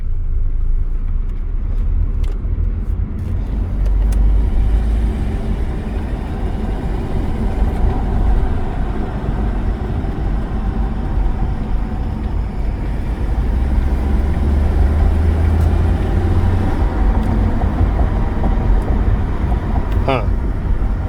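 Steady low engine and road rumble inside a moving 2007 Subaru Outback with a five-speed manual gearbox, continuous and fairly loud throughout, with a brief faint rattle near the end.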